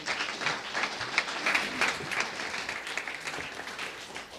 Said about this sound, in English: Let's have a warm round of applause for Douglas Rushkoff